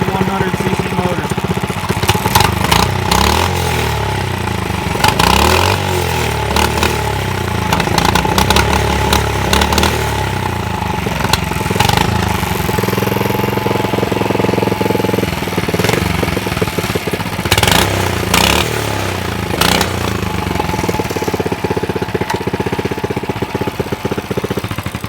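A small 100cc motor on a mini bike runs steadily throughout, a continuous loud buzzing drone with uneven throttle surges, close by and alone.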